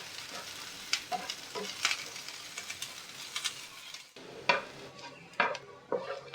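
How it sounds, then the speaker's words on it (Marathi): Onion pieces frying in a pan with chunks of garlic and ginger for a Maharashtrian wet cashew bhaji, giving a steady close sizzle broken by a few sharp scrapes and clinks of a stirring spoon against the pan. "चांगलं लाल भाजून घेऊया कांदा."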